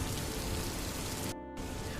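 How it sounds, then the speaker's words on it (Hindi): Steady rain falls, a dense hiss of drops striking a surface that fills the whole moment with a brief dip near the end. "बारिश की बूंदें अब भी गिर रही थी"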